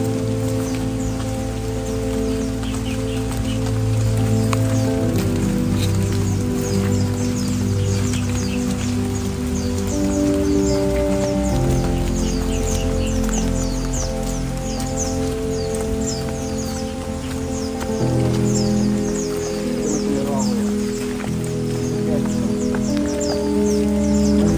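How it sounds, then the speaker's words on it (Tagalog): Heavy rain falls steadily in a forest, a dense, unbroken patter on leaves and ground that holds at an even loudness throughout, with faint bird calls barely showing through. "Ulan."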